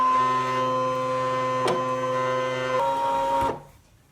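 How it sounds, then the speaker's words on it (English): A ScanNCut cutting machine running a background scan of a card, giving a loud steady mechanical whine with tonal hum, a brief clunk midway, then a shift in pitch before it stops abruptly. "I'm going to load it into the machine and I'm going to do the background scan and say go"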